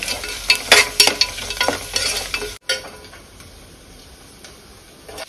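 Ginger garlic paste frying with coriander and cumin powder in a pan, with loud scraping stir strokes during the first half, then a steady quieter sizzle.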